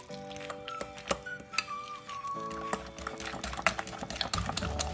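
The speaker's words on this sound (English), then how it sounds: "Whisk everything well." A whisk clicks and taps against a bowl in an irregular, quick rhythm while mixing labneh, mayonnaise and tahina into a sauce, over soft background music.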